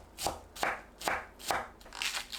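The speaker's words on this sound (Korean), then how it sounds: "양파를 작게 썰어주세요." Knife chopping onion into small pieces on a cutting board, a series of about five crisp, evenly spaced taps, close and fairly quiet.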